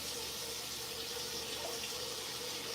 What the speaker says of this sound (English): let me go rinse the rice off.